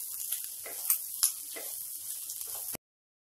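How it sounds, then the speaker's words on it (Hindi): Capsicum fries with mixed vegetables in a pan for an Indian-style egg noodle dish, giving a steady close sizzle with a few sharp spatula clicks and scrapes before it cuts off abruptly. "तो इसे भी हम आधे से एक मिनट तक भून लेंगे सब्जियों के साथ।"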